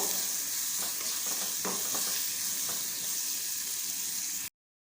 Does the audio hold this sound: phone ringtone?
no